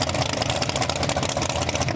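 A leaf blower clears snow off an ice racing track, a loud close engine drone with a fluttering, pulsing roar that holds steady for a couple of seconds.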